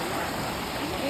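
Stream water rushes steadily along the Pacific Crest Trail, a continuous broadband wash heard up close with no pauses.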